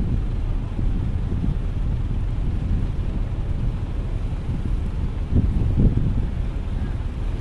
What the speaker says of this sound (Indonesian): Cuaca malam ini anginnya kenceng banget ya teman-teman ya. Ombaknya pun lumayan nih